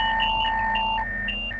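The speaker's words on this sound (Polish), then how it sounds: "Alarmy." Electronic alarms beep in a train cab in Train Sim World 3 on the Southeastern High Speed line, a steady tone under repeating two-note pulses, loud and close, with no talking.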